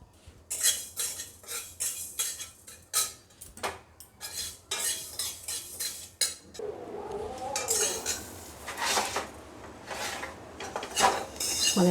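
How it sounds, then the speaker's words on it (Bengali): Fenugreek seeds being dry-fried in a wok and stirred, with repeated sharp metallic scrapes and clinks of a utensil against the pan, close and uneven in rhythm, with a soft sizzle in the quieter later part. "আমি মেথিটা ভেজে নিই।"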